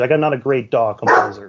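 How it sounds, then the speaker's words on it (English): A dog barks a few times close by, mixed in with and partly masked by someone talking steadily over the sound. "That was my dog."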